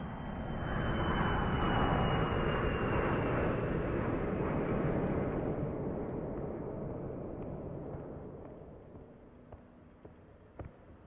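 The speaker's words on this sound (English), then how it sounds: "At least until the next plane comes along." A propeller or jet plane passes overhead, a loud broad engine roar that swells early then slowly fades as it moves away, leaving faint background with a few small clicks.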